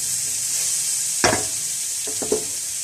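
Boiled potato cubes stirred into frying vegetables for macaroni: a steady hiss of sizzling oil with a few distinct scraping strokes of a spoon in the pan, close and clear, no voices.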